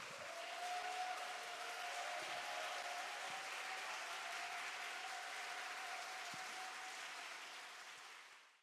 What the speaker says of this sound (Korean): 우리 큰 박수로 환호로 교수님을 모시도록 하겠습니다